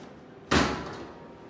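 The door of a SunClean 3-in-1 baling machine comes open with one loud, sudden metallic clunk, then a short ringing decay. No voices.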